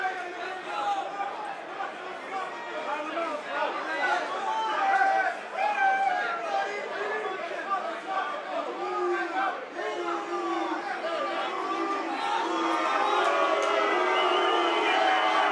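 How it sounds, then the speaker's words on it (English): An MMA fight crowd roars and shouts in a dense, continuous mass of voices, swelling and dipping, with individual yells cutting through the steady din and growing fuller toward the end. "The crowd wants to see some action, man."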